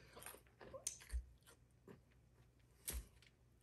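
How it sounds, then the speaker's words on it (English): Crunching bites into smoked candied pecans dusted with cinnamon sugar, a few crisp, close chewing crunches spaced across a quiet background with no talk. "you can hear it's got a nice crunchy candied coating"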